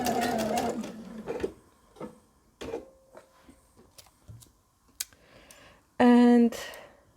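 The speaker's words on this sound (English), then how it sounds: "And I'm going to stitch now." A sewing machine stitches fabric for a Butterick B6855 garment in short bursts of rapid mechanical running, with a long loud run at the start and another near the end, separated by quieter pauses and brief handling sounds.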